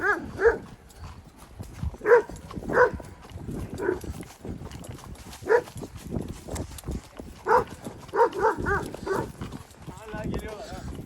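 Dogs bark in short, scattered bursts nearby at night while people talk over them, the yips and woofs coming irregularly throughout.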